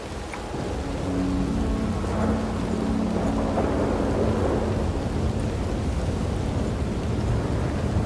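Storm sounds in Red Dead Redemption 2: a steady rumbling wash of thunder and rain that swells after the first second and holds dense and continuous, with a low hum running beneath.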